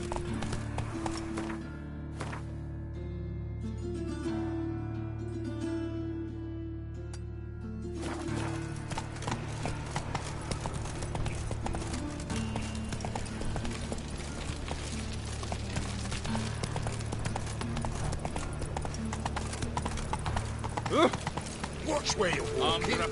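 Horse hooves clip-clop steadily in a PS4 video game, a continuous trotting rhythm under game music and voices, with the mix growing busier midway.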